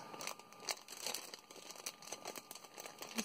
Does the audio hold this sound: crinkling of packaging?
yes